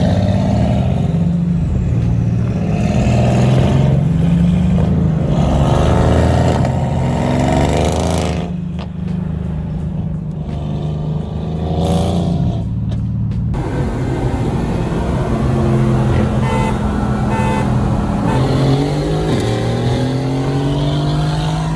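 A Mercedes C63 AMG with catless headers and a straight-pipe exhaust revs hard and loud, its deep roar rising and falling in repeated swells close by, with no talking.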